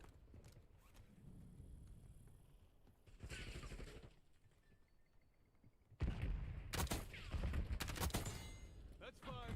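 Call of Duty Warzone firefight in Verdansk: bursts of rapid gunfire, quiet at first, then loud bursts around three seconds and a heavier, closer volley from six seconds on, with game voice chatter in between.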